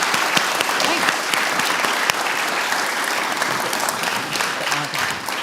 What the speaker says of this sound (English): And so let's give them a big round of applause and thank Derrick for doing.